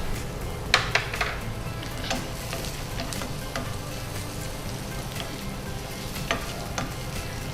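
Garlic sizzles in hot oil in a pan while a spoon stirs it, with scraping and clinks over a steady close frying hiss.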